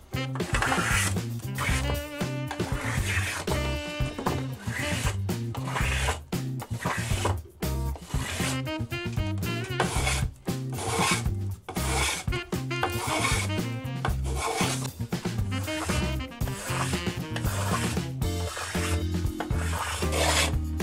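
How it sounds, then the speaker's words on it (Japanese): A small block plane shaves a curved wooden acoustic guitar side, giving quick, repeated rasping strokes in a steady rhythm, close and moderately loud, with no speech. "ひらがんなの入らないところは、こういった小さな豆がんなを使って、"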